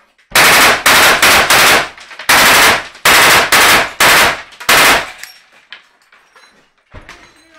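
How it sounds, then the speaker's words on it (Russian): Loud, close bursts of machine-gun fire, about eight sharp rapid volleys in a row, then fading echoes and scattered clatter. "Выстрел!"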